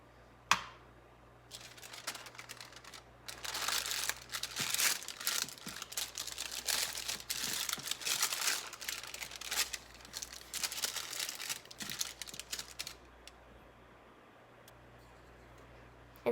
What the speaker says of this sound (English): Then spray your pan and add parchment paper on top.